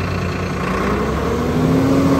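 A Swaraj 969 CRDi tractor engine runs smoothly at a steady rpm, a loud continuous low hum with a slight rise in pitch toward the end, no voices.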